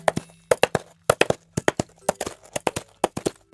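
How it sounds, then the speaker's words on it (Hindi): Coconut shells are knocked together as Foley for horse hooves, a crisp clip-clop of close, hollow knocks in rapid groups of three or four, repeating in a galloping rhythm with short pauses between. "असल में ये तो नारियल के छिलके की आवाज है।"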